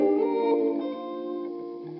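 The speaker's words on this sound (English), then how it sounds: "or an exaggeratedly long modulated sweep sounding something like this." Sustained electric guitar chord through a Cooper Fx expression generator set for a long, exaggerated modulated low-pass filter sweep, the tone slowly darkening and thinning as it rings out, loud and close with no voices.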